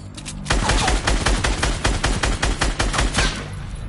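Rapid gunfire in the Fortnite video game, with a steady stream of loud, closely spaced shots in quick rhythmic bursts that start abruptly and run almost without pause.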